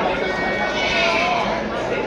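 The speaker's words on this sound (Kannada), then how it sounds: "ಬಂಡೂರಲ್ಲಿ ಕಪ್ನಿ ಕುರಿ" Bandur sheep lambs about three and a half months old bleat on a farm, a steady, dense chorus of calls that is close and fairly loud for a couple of seconds.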